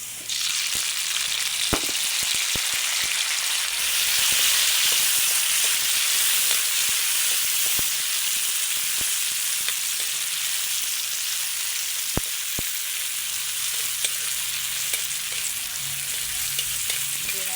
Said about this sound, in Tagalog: So ilalagay ko na guys yung kamatis.